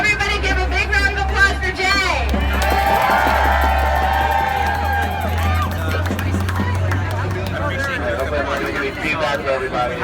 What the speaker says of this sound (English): So everybody give a big round of applause for Jay.